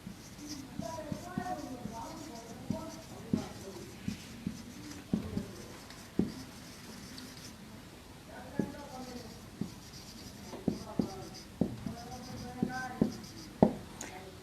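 Chalk or marker writing on a board in a classroom, a series of quick scratchy strokes and taps in irregular bursts, fairly close and moderately quiet.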